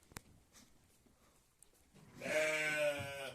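A sheep that has just given birth bleats loudly and close in a village pen, a single drawn-out cry after a quiet stretch with a few faint knocks.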